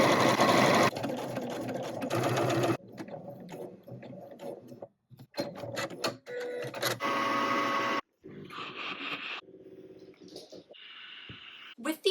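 A sewing machine cranked by hand rather than run by its pedal while stitching a jacket, giving bursts of loud, rapid mechanical whirring broken by short pauses, with a voice speaking over parts of it.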